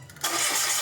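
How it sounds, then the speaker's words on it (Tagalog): A Mitsubishi Mirage G4 engine cranks briefly after an oil check, then catches and runs with a steady, loud idle close by. "Pa-start ko na itong makina."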